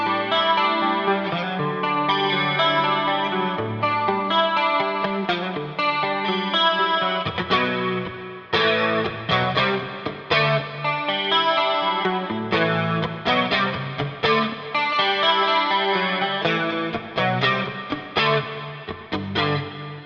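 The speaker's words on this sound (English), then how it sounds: "that kind of chorusy 80s sound comes up a lot in that era" An electric guitar through an 80s-style chorus preset on a Tonex amp modeler plays a dense, shimmering passage of strummed chords and ringing notes, steady and loud for the whole stretch with no talk.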